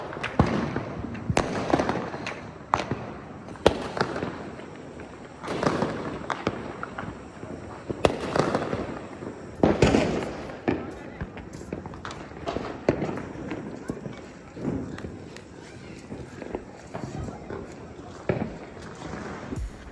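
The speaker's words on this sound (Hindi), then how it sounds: "आजकल के पटाखे इतने लाउड होते हैं कि उनकी आवाज़ पटाखे कम बॉम्ब जैसी लगती है।" Diwali firecrackers and fireworks bursting across a city at night, heard from a rooftop as repeated sharp bangs at irregular intervals, some close and loud, others distant, with faint background noise between them.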